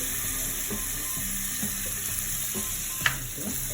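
Tomatoes go into a pan for a fluffy omelette on a very low flame, giving a soft steady sizzle with light stirring and one sharp clink near the end, no voices.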